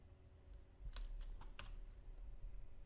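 Keys tapping on a computer keyboard while entering numbers in the Far Cry 5 map editor, a short run of quick, light clicks at close range over a steady low hum.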